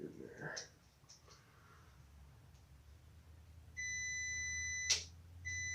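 Steady electronic continuity beeps from a multimeter probing the headlight wiring of a 1968 BSA B44 motorcycle, two clear tones near the end after a quiet stretch with faint handling noises.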